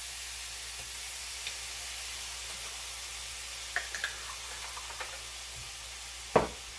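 Garlic cooking in a pan: a faint, steady sizzle with a few light clicks of utensils and one sharper knock near the end, no voices.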